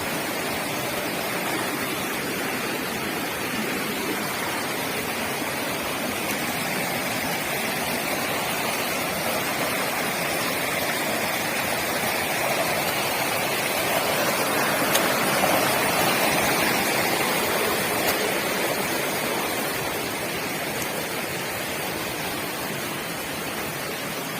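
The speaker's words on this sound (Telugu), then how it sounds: "వాటర్ ఫాల్స్ అంటారు" Rajadhar waterfall in the hills roars as a continuous, dense rush of falling water, loud and close, steady for the whole stretch with no voices.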